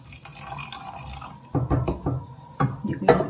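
Water poured into a cooking pot in a home kitchen, dripping and splashing in short bursts that swell louder near the end, with no talking.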